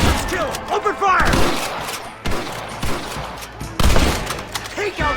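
A shootout in the Red Dead Redemption video game, with repeated loud gunshots in bursts and scattered thuds among shouting voices, several sharp blasts standing out.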